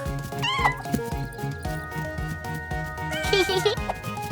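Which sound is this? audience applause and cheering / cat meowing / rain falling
cat meowing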